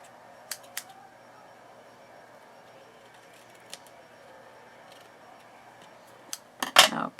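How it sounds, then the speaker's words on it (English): Scissors snip through ribbon and paper while crafting, giving a few faint, sparse clicks and then a brief, louder cutting burst near the end. "let's go ahead and cut these off"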